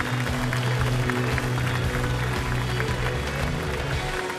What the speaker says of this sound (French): Applaudissements pour Cathy, s'il vous plaît.